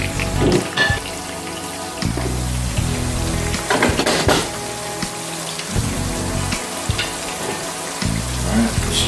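Shrimp sizzling steadily in a hot pan for a curry stir fry with bean sprouts, a loud continuous crackle with a few louder spits and stirs, no talking.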